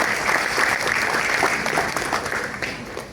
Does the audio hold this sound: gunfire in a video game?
no